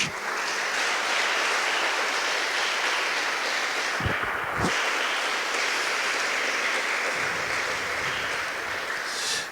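A church congregation applauds, with steady, dense clapping from many hands that holds continuously and fills the room, loud and sustained throughout.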